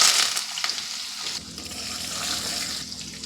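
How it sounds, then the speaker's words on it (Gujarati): Spices, ginger, chilies, peanuts, fennel and curry leaves hit hot oil for a Gujarati sabudana khichdi tempering, giving a steady close sizzle and spatter with a brief stir, no talking. "તો તેલ ગરમ થઈ ગયું છે, જીરું એડ કરીશું, આદુ, મરચાં, સિંગદાણા, વરિયાળી, મીઠો લીમડો બધો એડ કરીશું"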